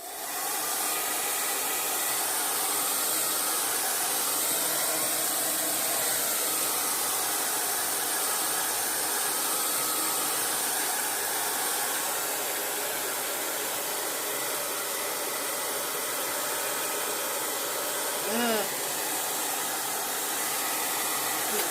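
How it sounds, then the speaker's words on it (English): A hair dryer blows steadily at close range with a constant whooshing hiss, its roar barely changing for the whole stretch. "make sure you're using your blow dryer just to hit each side"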